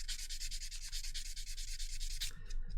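Sanding a Warhammer miniature gives a close, steady rasping scrub with quick back-and-forth strokes, stopping near the end with a few short rubs.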